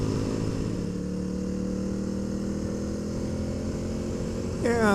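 A Honda CRF300L motorcycle with its airbox snorkel removed idles steadily, a close low engine-and-exhaust drone that holds even, then rises briefly into a quick rev right at the end.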